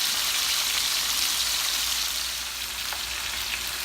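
Plantains fry on high heat in a pan, giving a loud, dense, hissing sizzle that holds steady without pause, no voices.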